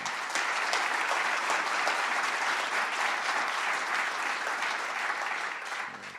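Sustained applause from a large crowd at a speech by President Obama, dense and steady for several seconds before starting to taper off.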